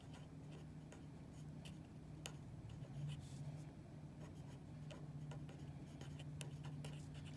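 A pen scratches on paper in short, faint strokes and taps, close by over a low steady hum, while writing out a set of natural numbers.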